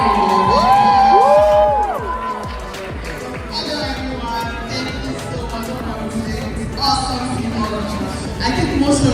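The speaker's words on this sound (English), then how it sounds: "Please put your hands together." Crowd at a YouTube creator event in Nigeria cheers and whoops loudly with scattered clapping, excited shouts rising early, dipping, then swelling again near the end.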